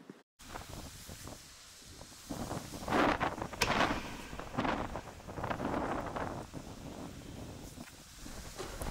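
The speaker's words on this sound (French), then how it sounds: "Il y a énormément de vent." Strong wind on the Norwegian coast during a storm at sea aboard a drakkar, buffeting the microphone in loud rushing gusts that swell and fade, with no talk.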